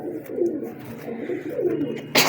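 Pigeon of the Kalo Baloch breed cooing close by in a series of soft, low, rolling coos that rise and fall, with a brief louder burst of noise at the end.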